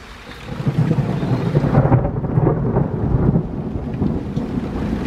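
Thunder rumbles loudly over steady rain during an outdoor thunderstorm, the broad roar swelling and continuing throughout with no voices.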